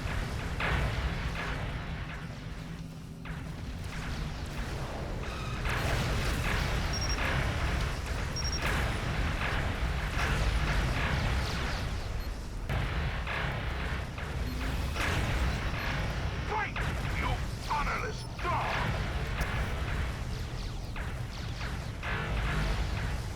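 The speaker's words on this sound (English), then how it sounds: "A lot of torpedoes being shot." Dense, continuous space-battle effects from the Star Trek Legacy video game, with torpedoes firing repeatedly as Klingon ships fight the Borg, layered with mechanical whooshes and rumbling explosions at steady loudness throughout.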